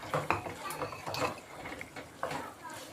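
Potatoes drop into a cooking pot with a few clattering knocks and scrapes against the metal, close and moderately loud, interleaved with short utensil clinks over about three seconds.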